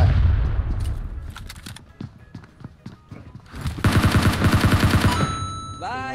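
Gunfire in a shooter video game: scattered single shots give way to a loud sustained automatic burst of rapid rhythmic reports, ending in a ringing tail.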